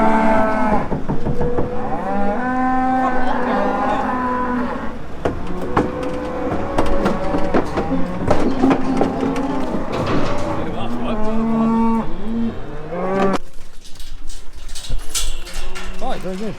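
Cows mooing on a farm, loud repeated low bellows from several animals filling the stretch, with some clatter and a person speaking briefly near the end.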